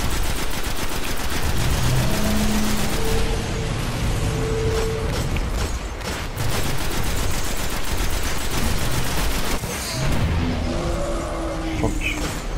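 Sustained rapid gunfire fills a Destiny boss fight, with dense bursts of automatic shots and explosions, loud and continuous throughout with only brief lulls.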